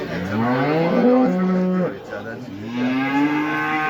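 A cow with a calf moos loudly and close by at a livestock market, two long drawn-out lows with a short break between them.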